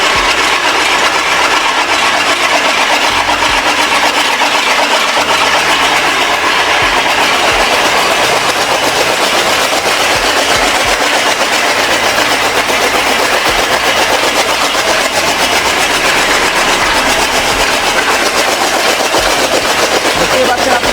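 A fodder cutting machine chops feed on a goat farm in West Bengal, its motor running loud and continuous with a rapid rattling, clattering drive the whole way through.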